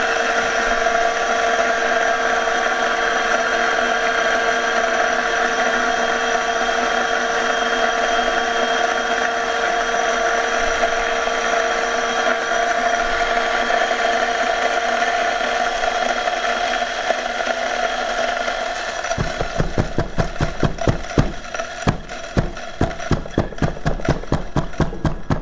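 A Ceado E5SD espresso grinder grinds coffee beans with a steady, loud whirring motor hum that runs for about 19 seconds, then turns into a rapid rattling, stuttering grind as it finishes.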